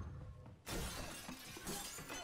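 Fake glass shattering in an action film fight scene: a sudden loud crash bursts in after a quiet start and spreads into a dense scatter of breaking shards that continues to the end.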